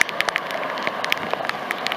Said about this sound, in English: this sprinkler really puts out the water